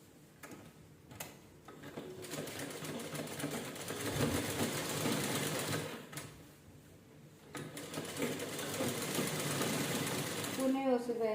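A sewing machine stitching the neckline of a blouse, a fast continuous mechanical whir with brief pauses and restarts, close and fairly quiet.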